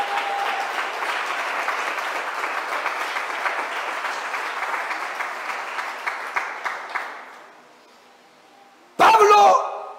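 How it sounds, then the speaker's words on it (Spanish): A church congregation claps in praise, a dense, steady wash of many hands for about seven seconds that fades out, followed by a brief loud burst of other sound near the end. "¿Cuántos dan palmas de alabanza al Señor, hermano?"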